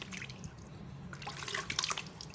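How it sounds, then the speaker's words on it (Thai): Avocado seeds are rinsed in water, with soft sloshing and small splashes and drips close by, growing a little busier toward the end. "เสร็จแล้วนำมาล้างน้ำนะครับ"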